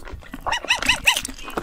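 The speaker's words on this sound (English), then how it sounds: "My childhood dog, Biscuit." A dog gives a run of rising, whining yelps and whimpers close by, several quick cries in a row with soft barks mixed in and no talk over them.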